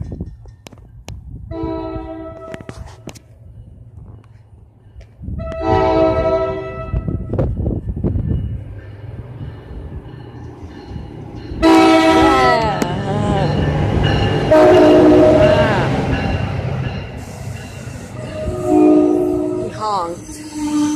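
NJ Transit-style commuter train passing the station at Raritan, sounding loud, close horn blasts in several bursts over the rumble and roar of the passing cars, with a person talking briefly.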